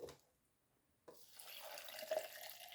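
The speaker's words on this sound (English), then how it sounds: "So then we need to put the water in." After a soft knock and a short pause, water pours into a large 25-ounce cup in a steady, quiet, close trickle, with the sound rising slightly in pitch as the cup fills.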